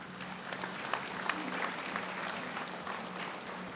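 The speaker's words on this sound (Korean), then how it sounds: "여러분 큰 박수로 환영해 주시면 고맙겠습니다" Audience applause at a university degree-conferral ceremony in Seosan, steady dense clapping from a large seated crowd at moderate distance, continuous for the whole stretch without a break.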